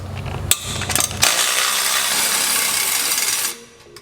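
A ratchet works a downpipe nut loose on a Subaru with an equal length header and external wastegate setup, giving a couple of sharp clicks and then a steady, close metallic rasping burst that runs for a few seconds before cutting off.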